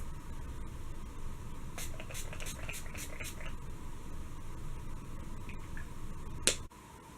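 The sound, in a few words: Mario Badescu rose water setting spray being sprayed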